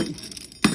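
Triumph car spanners knocked together: a soft, muffled rattle followed by a single sharp metallic clink close by.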